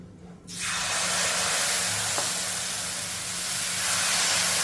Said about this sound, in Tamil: இப்போ தோசை தவா நல்லா சூடாகிடுச்சு. லைட்டாக நம்ம டிஷ்யூ வச்சு எண்ணெய் லைட்டாக தடவிக்கிறோம். கொள்ளு மாவு தோசையை அதில் ஊற்றிக்கிடுவோம்.